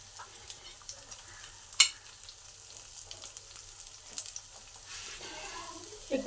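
Chopped onions frying in a pan with garlic and grated ginger, a soft steady sizzle with occasional stirring scrapes and one sharp utensil knock.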